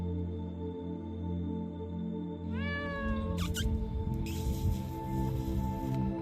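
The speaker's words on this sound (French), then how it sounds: "Un petit chat." A small cat gives one drawn-out meow followed by a short sharp cry, close and fairly clear over a steady humming background in a winter chicken coop at -13°C.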